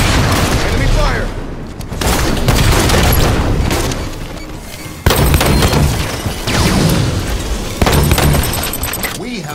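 Gunfire and heavy booms from a Halo 5 Oddball match: loud, dense bursts of shots and explosions throughout, with brief cuts, under game announcer voice callouts.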